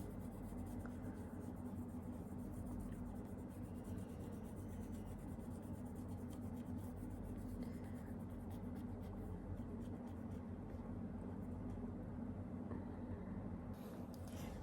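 A board being wiped clean of writing, a soft continuous rubbing and scraping that carries on steadily and faintly, with no voices over it.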